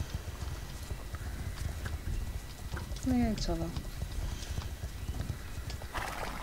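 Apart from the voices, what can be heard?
horse hooves and neighing in video game Star Stable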